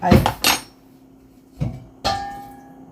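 A spoon knocking and scraping against a ruined kitchen pan, with four separate loud metallic clanks, the last one ringing out briefly, and no talk.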